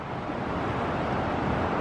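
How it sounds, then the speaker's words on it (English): Big waterfall on a raging river in the Sierra Nevada near Kyburz, California, heard as a steady, broad roar of rushing water, loud and unbroken, with no voices. "there's a big waterfall over there"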